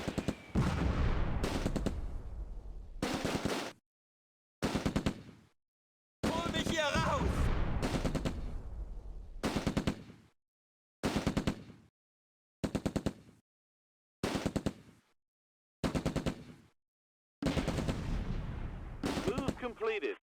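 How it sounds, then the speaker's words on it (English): Close Combat wartime battle: machine gun bursts and Sherman tank cannon fire roar in loud, dense blasts separated by abrupt silent gaps, with rumbling echoes filling each burst. "My infantry can now advance under cover of the Vickers and machine gun and cannon fire from the Sherman"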